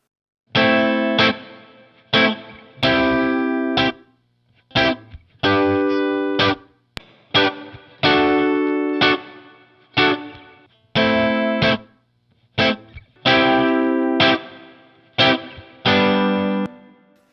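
An electric guitar played through Line 6 Helix Native effects rings out in a series of strummed, sustained chords, each struck, held and cut off in a steady rhythm, loud and alone.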